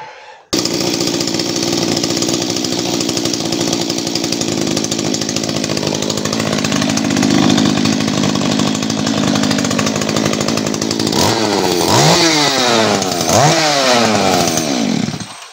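A small chainsaw fitted with an aftermarket muffler runs loud and close, holding a steady rough idle before several sharp revving bursts toward the end.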